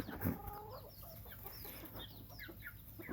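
A young Thai decoy fighting rooster clucks in short, quiet bursts with one sharper call at the start, heard fairly faint against a calm outdoor background.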